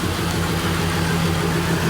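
A Ford Crown Victoria with three misfiring cylinders runs steadily with a little throttle, giving a loud, rough, low rumble. The pulsing is uneven and there is no talk over it.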